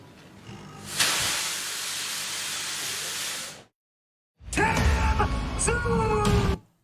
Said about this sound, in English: What the hell was that steam?